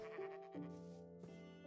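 Sheep in the Minecraft video game bleat in a few wavering, tonal calls, clear and fairly quiet, with short gaps between them and no talk.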